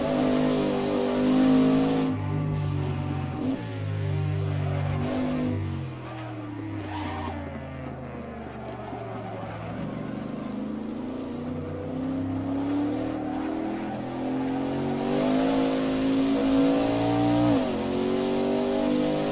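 A race car engine in the Assetto Corsa racing game at the Riverside track, a loud continuous drone that rises and falls with gear changes and throttle through corners, steady throughout with no talking.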